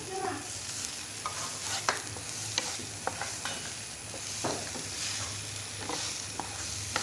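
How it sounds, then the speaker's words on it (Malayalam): Softened onions and tomatoes with pepper powder, turmeric and salt stirred in a hot pan, with a soft continuous sizzle under repeated spatula scrapes and taps, close and moderately loud. "അപ്പോൾ നമുക്ക് ആവശ്യത്തിന് കുരുമുളക് പൊടി, മഞ്ഞൾപ്പൊടി, ഉപ്പും കൂടി ഇട്ടെടുത്തിട്ട് നന്നായി വഴറ്റാം"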